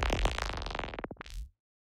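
A chunky, jelly-like designed sound effect layer for a sci-fi wub gun, built with analog-modelled plugins: one dense, wobbling, gelatinous burst that gurgles and pulses for about a second and a half, then snaps off into silence.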